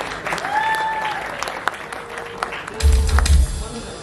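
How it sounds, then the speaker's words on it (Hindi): Applause from an awards-ceremony audience at the Akhand Bharat Gaurav Award 2024, steady clapping with tonal voices and music lines over it, swelling louder near the end. "जोरदार ताली हो जाए।"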